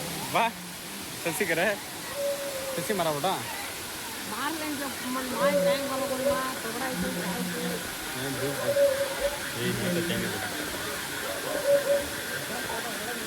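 The steady rushing roar of Kaigal Waterfalls near Palamaner, Andhra Pradesh, India, fills the background while tourists talk over it.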